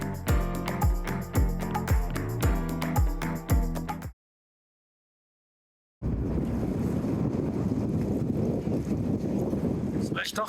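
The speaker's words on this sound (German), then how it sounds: "Und ein böser Wind kam auf uns zu." Strong wind buffets a sailboat at sea off the north coast of Menorca, a loud, steady rushing roar close to the microphone. It follows a few seconds of rhythmic music and a brief silence.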